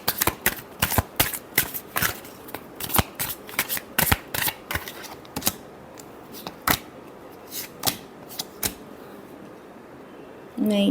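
A deck of tarot cards is riffled and shuffled in a quick series of crisp, rattling bursts, loud and close, thinning out toward the end, with no talk during it.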